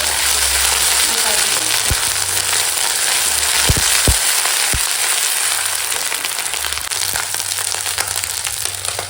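Ginger garlic paste fries with onions and chillies in hot oil, giving a loud, steady sizzle broken by a few soft knocks from the pan.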